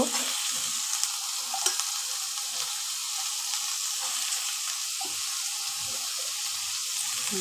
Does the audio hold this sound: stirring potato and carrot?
yes